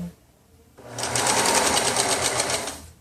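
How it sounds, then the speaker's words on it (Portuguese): An overlock sewing machine stitches a T-shirt hem. After a quiet moment it starts up and runs steadily for about two seconds with a fast, even mechanical whir, close by and alone. "Eu venho aqui, viro na overlock, viro mais uma."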